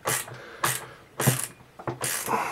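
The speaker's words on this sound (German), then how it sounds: "und nun schrauben wir unseren Luftfilterdeckel wieder ein" A Volkswagen air filter cover is screwed back onto the housing of a Polo, Golf or Lupo engine, giving close rhythmic ratcheting bursts of plastic clicks, four runs in quick succession with short pauses between.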